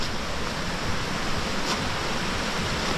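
Flowing water of Disappearing Creek on the Suwannee section of the Florida National Scenic Trail, a dense, steady rushing roar close by with no pauses.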